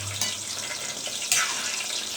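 Hot water is poured into a simmering mango mutton curry, making a continuous rushing, hissing splash with a sharper burst partway through. No one speaks.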